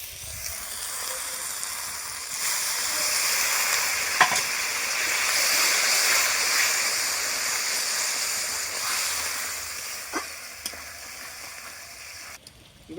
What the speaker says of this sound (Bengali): জল দিয়ে আমি মশলাটা কষে নেবো